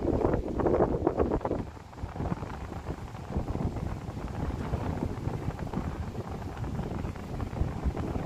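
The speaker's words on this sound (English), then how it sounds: "I'm trying not to let the wind shake the camera too much" Strong wind buffets a handheld camera microphone by the San Francisco Bay at Marina Bay, giving a loud, steady rumbling roar with heavier gusts at the start and no talking.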